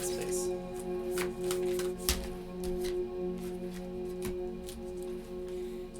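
Tarot cards are shuffled over and over, a steady papery riffling with sharper snaps at intervals, close and continuous beneath a faint background hum.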